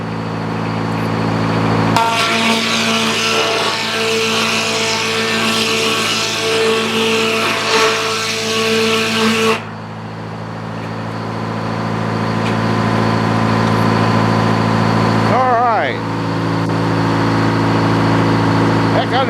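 A sawmill engine idles steadily with a low mechanical drone, joined from about 2 to 9.5 seconds by a louder broadband roar, then settling back to a constant idle with a brief squeal near 15 seconds.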